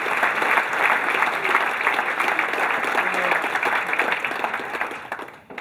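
Warm applause from an assembled audience at a club's annual meeting, a full steady patter of clapping that holds throughout, then fades out at the close.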